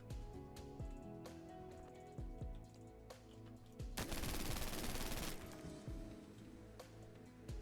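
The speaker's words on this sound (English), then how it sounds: "you can cancel the animation from landing by firing your weapon." Gunfire from the video game The First Descendant: rapid weapon shots over a thumping in-game soundscape, swelling into a dense fusillade in the middle, moderately loud with no talking.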